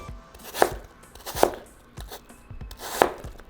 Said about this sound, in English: So just cut around your apple. So just cut them 1/4 inch thick.